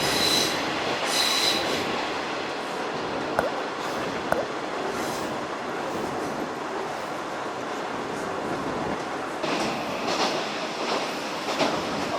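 A train runs along the rails on a Japanese line, giving a steady, moderately quiet rumble with faint wheel squeals and a few clicks, heard alone.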